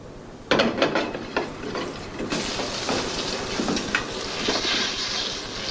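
Flour-coated liver laid into a hot frying pan starts a sudden loud sizzle that holds steady and close, with small clinks and crackles over it.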